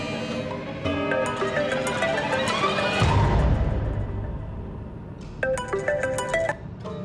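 A mobile phone ringtone plays a bright melodic tune in a tense Hong Kong drama scene. The ringing is loud and continuous, with a short pause and then a repeated burst of tones, and no voices.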